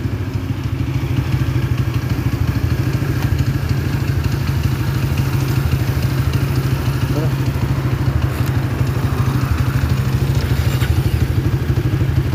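A Honda GL100 motorcycle engine running in a workshop, a loud steady single-cylinder thrum with a faint clatter, close by and continuous for the whole stretch.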